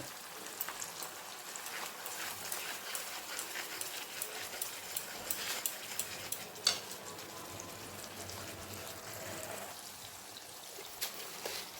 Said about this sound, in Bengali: একসাথে পেস্ট করে রাখা ছিল ওটাই দিয়ে দিচ্ছি মশলার সাথে ওটাকে কষিয়ে নেব